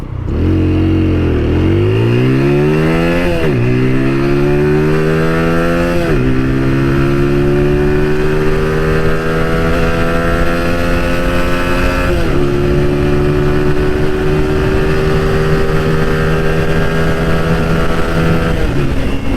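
A TVS Apache RTR 200 4V motorcycle revs hard and climbs through the gears, its loud engine note rising repeatedly and dropping briefly at each shift, close and continuous.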